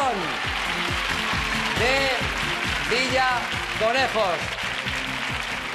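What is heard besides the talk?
ovation applause for the Villaconejos team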